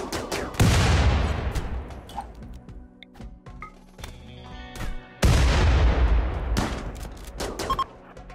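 A grenade thrown and exploding in RimWorld, with a loud, close blast followed by a long rumbling decay, then scattered clicks and small pops, then a second heavy explosion that rolls on for several seconds.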